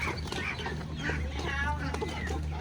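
Ducks being caught and handled on a farm give off a busy mix of quacks and clucking calls over a steady low hum, with faint voices in the background.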